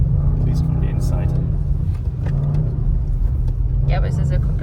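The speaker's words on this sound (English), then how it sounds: "The exhaust is a little bit disappointing." Audi RS6 C8 exhaust heard from inside the cabin, a steady low rumbling drone that runs throughout beneath conversation from people in the car.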